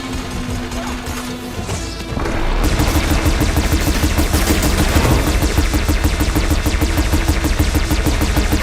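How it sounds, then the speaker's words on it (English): Rapid cannon fire at machines in Horizon Forbidden West, a dense, loud stream of repeated shots that begins after a quieter opening and continues steadily to the end. "Take out those machines with that cannon!"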